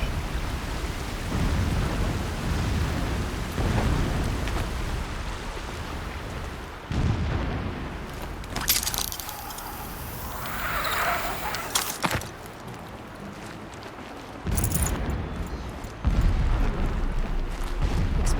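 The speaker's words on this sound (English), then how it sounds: "Explosions in the distance." Deep, rumbling explosion booms in the video game Horizon Zero Dawn roll in from far away over a steady rain-like wash of ambient noise, with several heavy bursts spaced apart.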